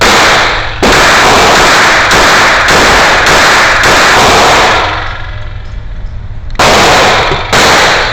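A Raven Arms P-25 .25 caliber pistol fires a string of about seven very loud sharp shots at irregular intervals, each cutting off abruptly, with a longer gap before the last two.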